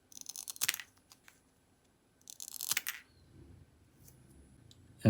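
A NexTool Micro Sailor ultra-thin multi-tool scissors snips through a packaging strap in a quiet room, two crisp cutting snaps with light crinkling handling noise between them.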